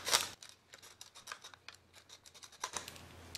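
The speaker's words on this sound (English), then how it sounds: "So we're gonna clean the edges by using the scissors." Scissors snip around the edges of a homemade pocket slingshot, a quick series of close, crisp cuts and scraping clicks in a quiet room.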